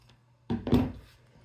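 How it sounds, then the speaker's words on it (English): Scissors snip through a zipper in a fabric wristlet phone wallet, two quick close crunchy cuts in rapid succession with a short rustle after, in a quiet room. "We can actually cut this zipper too."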